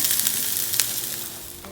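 Onion and garlic sizzling in a frying pan, nearly cooked: a close, continuous crackling hiss with a few sharper pops, heard alone with no talking.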